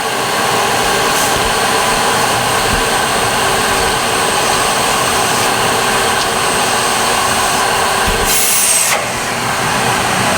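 A shop vac blows air out through a swimming pool's slide plumbing line during pool closing. It makes a loud, steady, close whooshing roar that runs the whole time with no talking, and it dips briefly near the end.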